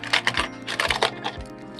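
A bunch of keys, including a vehicle key, is handled and set inside a UV disinfecting pod. Close, quiet metallic jingles and clicks come in quick, irregular clusters.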